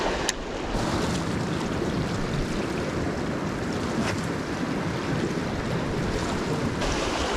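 Steady wind and surf noise at a rocky shoreline during autumn bass fishing in the UK, a constant broadband rush with gusts buffeting the microphone, no voices.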